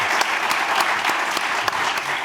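A studio audience gives a round of steady applause, dense clapping that holds at an even level and goes on alone.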